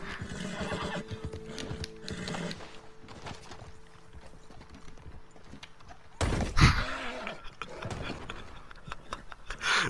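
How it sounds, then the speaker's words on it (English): A horse in Red Dead Redemption whinnies loudly and clip-clops over rough ground, hoof thuds scattered through the scene and a strong neigh near the middle, close and clear without talk. "Look at my horse, he's part mountain goat."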